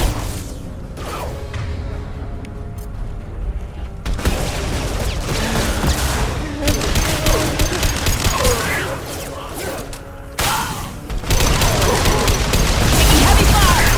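Heavy gunfire in a firefight in the video game Mass Effect 2, loud and sustained bursts with mechanical clanks and whooshes, dipping briefly before resuming at full intensity.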